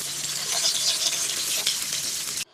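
Hilsa fish coated in salt and turmeric frying in hot oil, a steady bright sizzle with soft crackles and spatters that runs close and loud, then cuts off abruptly near the end.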